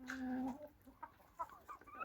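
Chickens cluck in a backyard poultry yard, one close bird giving a drawn-out call followed by several short, scattered clucks at moderate loudness.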